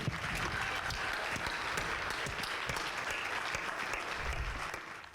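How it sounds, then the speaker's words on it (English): Sustained round of applause from a crowd at a community parade event honoring the Richmond Roosters, steady and full for about five seconds before tapering off. "let's give a great round of applause to the architect of the Richmond Roosters, John Gay"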